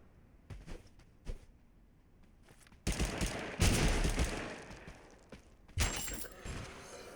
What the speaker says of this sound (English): basically the AWP, but it shoots taser rounds